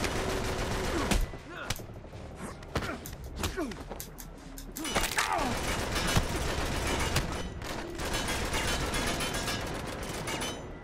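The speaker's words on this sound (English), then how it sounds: "Guns are blazing." Dense volleys of gunfire in Uncharted 3: Drake's Deception, with sustained rapid shooting, sharp cracks and clattering impacts, and a brief voice exclaiming over the din.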